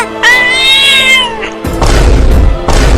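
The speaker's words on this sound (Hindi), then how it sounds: "ये बिल्ली अपनी दांतें दिखा रही है हमें काटने के लिए" A cartoon cat gives a drawn-out, high, wavering snarling yowl lasting about a second, followed by several heavy thumping booms.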